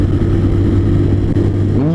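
A small, squat but heavy motorcycle engine runs at steady revs, a loud, close, continuous mechanical drone with a rising whine toward the end, no voices.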